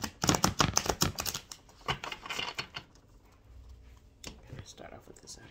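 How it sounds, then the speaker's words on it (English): Tarot cards shuffled by hand for a zodiac reading, a quick burst of crisp riffling and slapping clicks that thins into softer scattered rustles, close and fairly quiet. "I'm going to go ahead and shuffle them one more time for us."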